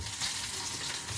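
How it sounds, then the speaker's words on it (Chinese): Sliced eggplant sizzles and fries in a hot wok in a home kitchen, a steady, close hiss of oil with no talking. "现在茄子下锅"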